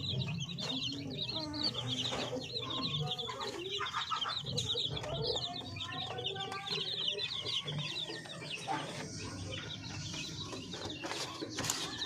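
Backyard chickens cluck steadily at close range, including breeder hens kept in coops, with scattered bird chatter and rustling filling the scene throughout.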